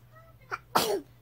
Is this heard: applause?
no